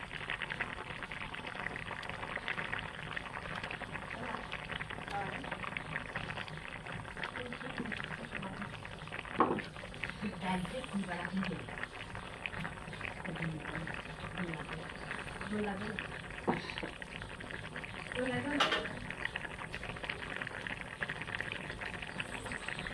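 A pot of fish curry with banana flower simmers on the stove, a soft continuous bubbling with a few sharper clinks and splashes over low background noise.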